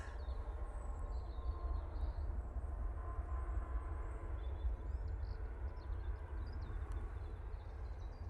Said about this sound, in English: British Airways now touching down.